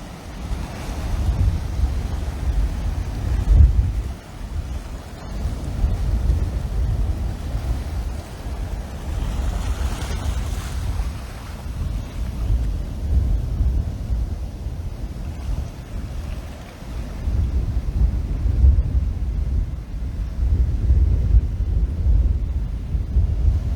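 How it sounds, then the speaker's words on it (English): Sea waves rolling onto the shore at Cattlewash at daybreak, a continuous loud wash of surf with gusting wind buffeting the microphone, no voices. "All you can hear is the sea and the water coming in and the winds."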